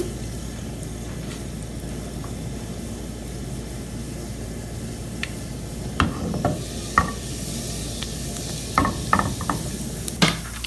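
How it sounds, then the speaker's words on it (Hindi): Fenugreek, cumin and mustard seeds sizzle in hot oil for Hyderabadi bagara baingan, a steady close frying hiss broken by several sharp pops and spoon taps. "अब इसी ऑयल में हम ऐड करेंगे हाफ टी स्पून मेथी टी स्पून ज़ीरा हाफ टी स्पून राई"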